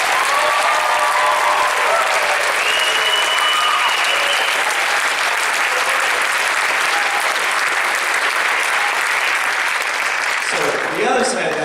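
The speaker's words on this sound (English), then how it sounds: "So, give them a round of applause." Audience applause for a prize-winning junior high school band fills a hall, a dense, steady wash of many hands clapping at close range that holds for about ten seconds before cutting off abruptly near the end.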